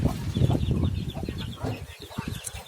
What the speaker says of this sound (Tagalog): may manok din ako mga kabats dito